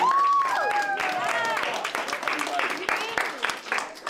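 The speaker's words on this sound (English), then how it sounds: "Round of applause for yourselves." An audience cheers and applauds itself at a live streaming event, with clapping and whoops filling the room as excited voices shout over it.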